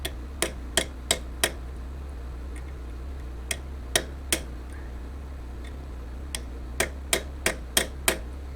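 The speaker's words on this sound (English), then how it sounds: "No, hold it and I'll hammer it." Sharp metallic hammer strikes ring out in irregular clusters, several quick taps then pauses, over a low steady hum, as a pin hammer drives pins into metal during a thread insert repair.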